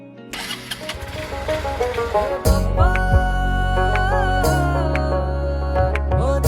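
A TVS Star City Plus motorcycle engine cranks and catches, revving up into a steady idle with a few sharp throttle blips, loud and close with no talking.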